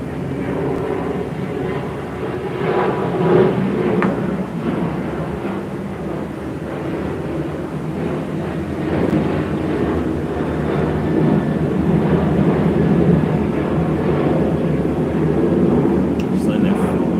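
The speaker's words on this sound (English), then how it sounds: "Like I can literally see these planes. They're like right above me. I live right by the airport" Airplanes fly low overhead near an airport, a steady loud roaring rumble that swells slightly and runs continuously beneath a person talking.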